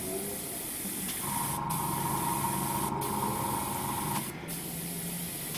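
An Iwata Eclipse HP CS airbrush sprays in a steady, close hiss, briefly interrupted by a few short pauses, with a faint higher tone under it for a few seconds.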